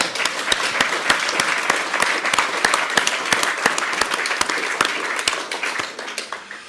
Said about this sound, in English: Should we give the rangers a round of applause?